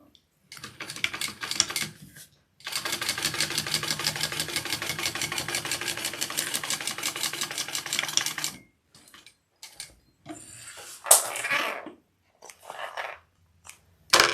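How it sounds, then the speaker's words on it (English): Sewing machine top stitching through the base of a fabric bag, a steady rapid mechanical chatter running continuously for about six seconds, with short stitch bursts before and after and quiet pauses between. "I want to top stitch through the base"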